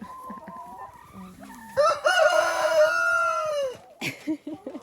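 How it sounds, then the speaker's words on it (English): A rooster crows loudly nearby, with clucking and other fowl sounds around it. "He's our other rooster."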